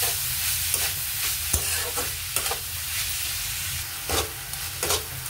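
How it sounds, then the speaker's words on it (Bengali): Coconut filling for puli pitha stirred in a kadai, a constant sizzling hiss broken by repeated spatula scrapes and knocks against the metal wok. "কড়াইয়ের মধ্যে এই নারকেলের ছাইটা বানিয়ে নেব"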